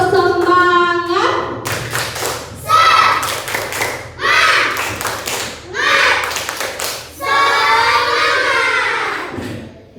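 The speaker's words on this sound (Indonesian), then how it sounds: "Beri tepuk tangan. Tepuk semangat." Children in an Indonesian classroom clap their hands in short rhythmic bursts, alternating with group chanting and a teacher's voice; the claps come in several loud, close clusters across the clip.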